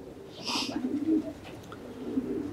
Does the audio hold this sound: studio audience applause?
no